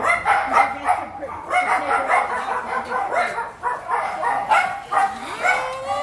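Several Italian Greyhound puppies bark and yip in rapid, overlapping bursts, high-pitched and close, with squeaky whines mixed in throughout.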